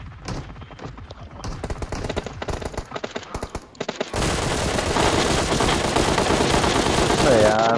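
Rapid gunfire from PUBG Mobile on the Sanhok map, with bursts of automatic shots that turn into dense continuous firing and explosion-like noise, loud and close, while players talk over the start.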